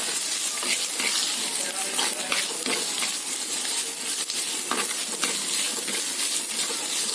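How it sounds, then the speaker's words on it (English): Moong dal kichadi sautés in a pan, stirred with a coconut shell ladle, giving a steady sizzle with repeated scraping and stirring strokes throughout, close and fairly loud. "Here I am using the coconut shell ladle."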